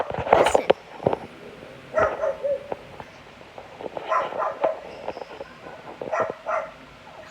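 A bird mimicking a dog's barking, giving short bark-like bursts in uneven clusters, some loud and close, with brief gaps between groups and no talking over them.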